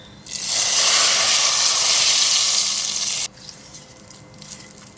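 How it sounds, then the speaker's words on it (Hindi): Hot tadka poured into khatti dal erupts in a loud, bright sizzle and hiss that lasts about three seconds, then drops away suddenly to faint background noise. "तड़का डालूंगी दाल में।"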